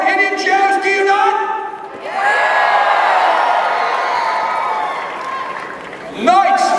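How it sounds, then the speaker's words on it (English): A large outdoor crowd at a live medieval jousting show cheers and roars in a loud, sustained swell, with whoops and yells riding over the noise and an announcer's voice heard at the start. "And the crowd goes crazy!"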